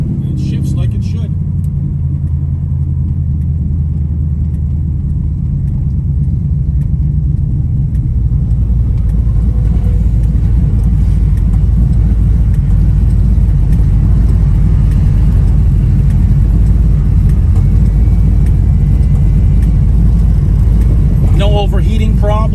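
A 1972 Chevrolet Nova underway, its engine a loud, steady low rumble heard close from inside, holding a constant drone throughout with no distinct breaks.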